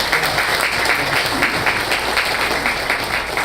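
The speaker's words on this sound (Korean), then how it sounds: "오늘 임태랑 회장, 우리 박위안 우리 장로 위에서 한번 박수를 부탁을 드립니다." Audience at a gathering in Los Angeles applauding, a steady, full round of many hands clapping close by for the whole stretch.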